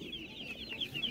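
Chickens for sale at a Ukrainian animal market cluck in quick, repeated high calls, several birds close together with a short rhythmic series over about a second, amid faint market background noise.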